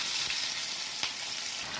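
Parshe fish sizzle steadily in hot mustard oil, a close, even frying hiss with a couple of soft crackles.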